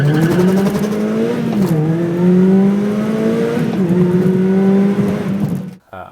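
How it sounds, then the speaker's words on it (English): Aston Martin making a hard launch on an acceleration run, engine roaring loud and close as it climbs through several upshifts, the tone stepping down with each gear change before cutting off sharply at the end. "I'll insert the video of the acceleration run, and it was just this wheel-hopping, disastrously abusive, horrible launch"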